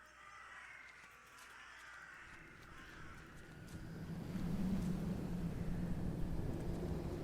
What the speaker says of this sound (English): Okay, that sounds like birds.